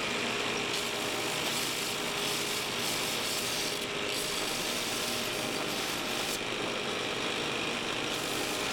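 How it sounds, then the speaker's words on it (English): A brass part of a steampunk Stirling engine's bearing support is sanded to a brushed finish, producing continuous loud, close abrasive scraping with no pauses. "I'm just kind of cleaning all that up and giving it that nice brushed, sanded look on the brass finish here"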